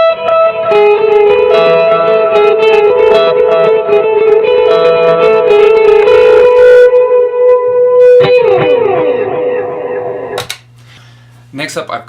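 Electric guitar lead tone through Prism, Centura, Morning Glory, Big Sky and Timeline pedals: a singing, sustained melodic line with delay and reverb tails, ringing chords fading out, then a few quiet picked notes near the end.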